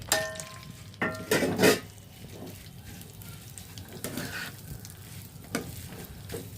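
Ground soybean paste frying in hot mustard oil for a mashed soybean dish, a soft steady sizzle with a few louder stirring scrapes and clatters near the start and later, no talk.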